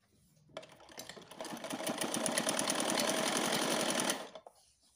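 A sewing machine stitches a small summer flower dress, running in one steady rapid burst of about three and a half seconds that starts, builds and stops, close and alone with no talk.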